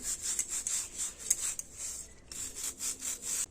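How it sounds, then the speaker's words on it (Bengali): A brush scrubs across cracked heels in quick, rhythmic back-and-forth strokes, each one a soft, close rasp with a brief pause midway, quiet and with no voices. "এই ব্রাশটা দিয়ে এরকম করে ঘষে নিচ্ছি"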